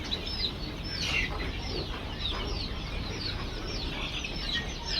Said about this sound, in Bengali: এটা নাহার কোম্পানির লেয়ার মুরগির বাচ্চা।